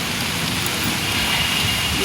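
Heavy storm rain pouring outdoors with strong wind, a dense, loud, unbroken roar of falling water on surfaces, close and without speech.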